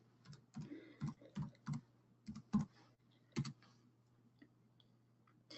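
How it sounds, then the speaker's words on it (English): Keys clack on a computer keyboard in a short burst of separate taps, close and clear, then a pause and a few final keystrokes, with no voices. "We'll type the phrase creative writing and click enter."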